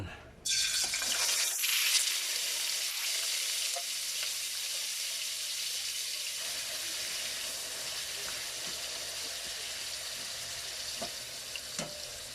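Chicken marinated in calamansi and soy sauce fries in hot oil with a loud, steady sizzle that starts abruptly and holds for the whole stretch, close up, with faint scraping and no talking.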